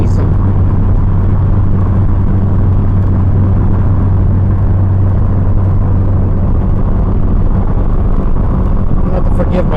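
Custom 1973 Ford Pinto cruising on the road, a loud steady engine and road rumble heard from inside the car with wind buffeting, continuous throughout.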